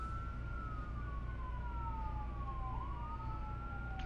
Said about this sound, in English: Always the sirens.